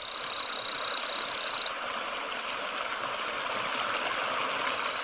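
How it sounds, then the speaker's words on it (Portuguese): A waterfall frog calls beside a waterfall in the Brazilian jungle, giving a thin, high, whistling note at the start over the constant loud rush of falling water. "A rã da cachoeira."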